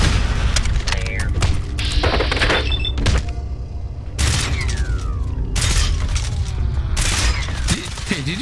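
Sharp, loud gunshots fired point-blank in a modded Fallout 4 fight ring out several times as distinct heavy cracks and booms, with mechanical clunks and brief whooshing effects between them and some talk mixed in.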